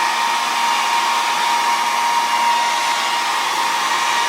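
A hair dryer blowing on acrylic paint on a canvas, a loud continuous whirring rush with a steady motor whine, close and unbroken, with no talking.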